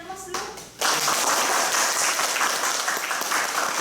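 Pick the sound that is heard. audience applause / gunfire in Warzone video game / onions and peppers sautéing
audience applause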